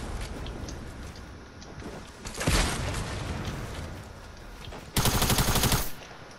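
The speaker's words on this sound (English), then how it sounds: "You're shooting at me" Video game gunfire breaks out in two loud, close bursts of rapid automatic shots, the second longer and more sustained, over a constant noisy game background.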